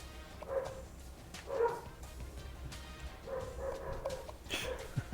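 Household dogs barking in the background, a few scattered yips and barks at low level spread over several seconds, somewhat distant and muffled.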